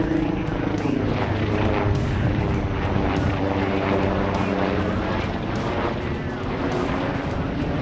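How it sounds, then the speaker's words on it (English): Helicopter taking off from a resort helipad on an island, a loud continuous rotor and engine roar with rhythmic blade chop dominating throughout. "Oh, it's a chopper taking off. There's a helipad here."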